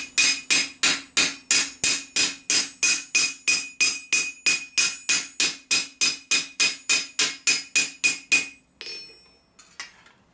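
Steady, rhythmic blows from a large-faced hammer planishing a medieval armour plate, ringing on metal about two or three strikes per second, close and loud, before a few lighter taps at the end.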